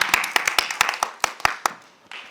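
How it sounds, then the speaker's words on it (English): A small audience at an art gallery talk claps in a sparse, uneven patter, individual sharp hand claps close by, tapering off after about two seconds. "round of applause"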